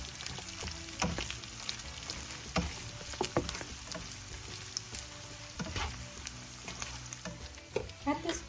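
Minced beef and onions sizzle steadily in a hot pan, with repeated scrapes and knocks of a spatula stirring through the mixture, fairly close and continuous.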